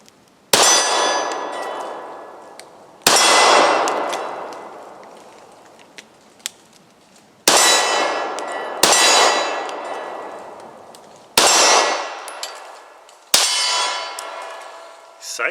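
Six Steyr M9A1 pistol rounds strike a steel silhouette target at 15 yards, each a sharp, ringing metallic clang that decays slowly, spaced irregularly a few seconds apart.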